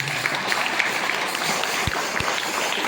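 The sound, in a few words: audience applause for donors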